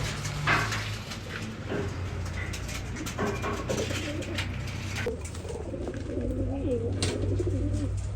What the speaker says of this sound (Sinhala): ඔය ඉන්නේ කුරුල්ලෝ ටිකේ.